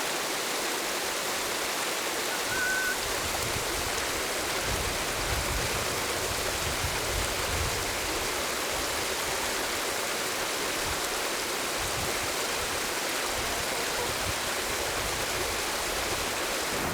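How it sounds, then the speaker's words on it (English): Small mountain streams rushing along a Caucasus hiking trail, a constant hissing wash of running water, moderately loud and unbroken, with no voices over it. "Along the path, we have to cross smaller streams."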